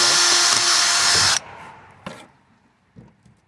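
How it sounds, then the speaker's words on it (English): A power drill bores a hole in a wooden piece for a soil screen, a loud high whine for over a second, then stops, followed by a couple of faint knocks. "So the thing to do is drill it first"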